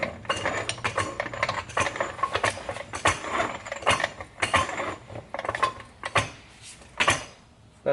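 Metallic clicks, clunks and scraping as a floor jack is worked into place under the differential of a Nissan 350Z, in irregular close bursts with no talking.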